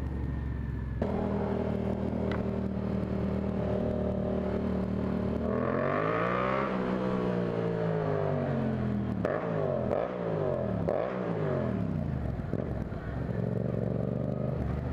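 A Yamaha MT-07 motorcycle engine idles, then revs up and falls back several times in sharp sweeping bursts, close and clear with no talk.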